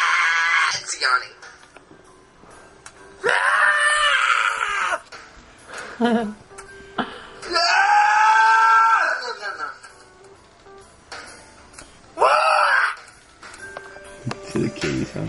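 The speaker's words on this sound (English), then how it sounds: "See the kitty sound." A pet cat gives several drawn-out, rising-and-falling meows spaced a few seconds apart, close and fairly loud, with quieter household sounds and brief noises between calls.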